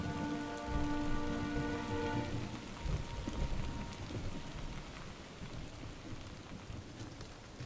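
Steady rain falls in an animated series, a dense even hiss of drops on surfaces with a low rumble of thunder, holding throughout without speech.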